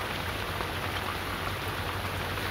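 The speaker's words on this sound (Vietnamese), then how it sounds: "Hồi chiều thì không có mưa mà chắc giờ sẽ mưa lên." Steady rain falls outdoors in the Mekong Delta countryside, a dense even hiss that holds without a break from start to finish.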